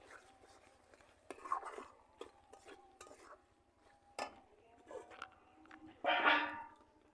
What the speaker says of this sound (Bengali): এটাকে নাড়িয়ে মিশিয়ে দিলাম।